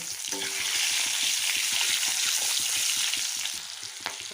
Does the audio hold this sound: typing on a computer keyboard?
no